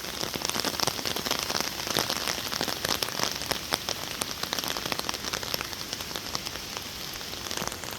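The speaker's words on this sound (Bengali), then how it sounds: "সেই বৃষ্টি হইতেছে, ভারী বৃষ্টি পুরা।" Heavy rain pours down steadily, a loud dense hiss of drops striking surfaces with scattered sharper splats throughout.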